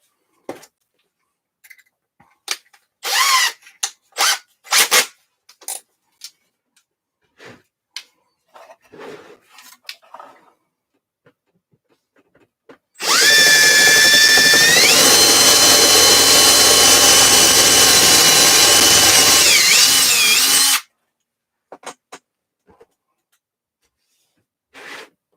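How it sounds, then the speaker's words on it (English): A cordless power drill bores holes during an electronics build, one loud continuous whirring run of about eight seconds with a pitch shift mid-way, preceded and followed by scattered quiet handling clicks and rustles. "Maybe I should drill holes here."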